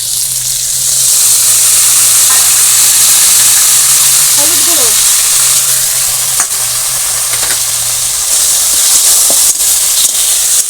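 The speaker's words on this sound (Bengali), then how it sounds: "একটু ভেজে নিলাম আর মশলাগুলোও একটু ভাজা ভাজা হয়ে যাবে" Loud, steady sizzling of spices frying in hot oil for a vegetarian dish, a continuous hiss close up with a few brief clinks of stirring.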